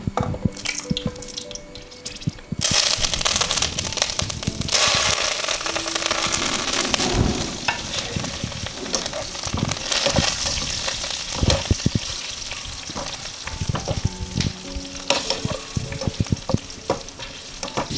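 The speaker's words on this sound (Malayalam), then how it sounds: "കുറച്ച് മല്ലിയില, കുറച്ച് കറിവേപ്പില, 3 പച്ചമുളകും കൂടി നമുക്കൊന്ന് ഫ്രൈ ആക്കി എടുക്കാം." Coriander leaves, curry leaves and three green chillies fry in the oil left from frying chicken 65, giving a loud, continuous crackling sizzle with stirring scrapes and sharp pops throughout, no voices.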